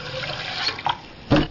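Hot water splashes and runs while a hookah is rinsed, a steady close stream broken by a couple of sharp sloshes and a louder gush near the end.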